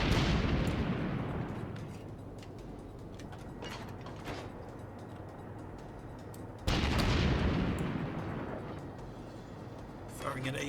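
Heavy naval guns boom in World of Warships aboard the Soviet destroyer Gremyashchy, with two loud blasts whose rumbling tails fade over several seconds, set against a constant engine and ocean hum.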